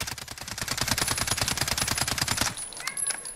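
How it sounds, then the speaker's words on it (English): An LWRC SMG-45 submachine gun in Call of Duty Modern Warfare fires one continuous rapid automatic burst for about two and a half seconds, then stops abruptly, leaving a short fading tail. "I'm just gonna aim and let this thing rip and not control the vertical recoil."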